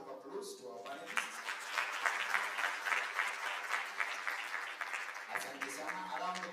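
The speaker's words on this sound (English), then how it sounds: "I think we just give a warm round of applause to our panelists" An audience at a mental wellness and counselling breakfast conference gives the panelists a warm round of clapping, steady and moderately distant, with a speaker's voice heard briefly at the start and again near the end.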